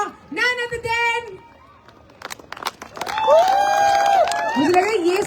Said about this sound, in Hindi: दोनों हाथ ऊपर, जोरदार तालियां।